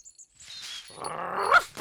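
A cartoon dog in a Toyland magician story gives a short, close growling bark that rises over about a second, alone without talk.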